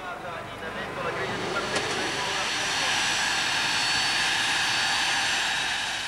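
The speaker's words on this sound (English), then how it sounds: "Ayrton Senna flies into Milan in his own private jet" A private jet arrives at Milan, its engine roar a steady, broad wash that builds slightly and holds loud throughout, with no clear breaks.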